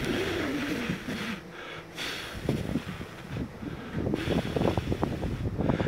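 Breath blown hard into a cheap digital anemometer, rough gusty wind noise rushing against the microphone in uneven bursts, close and fairly loud with no talking.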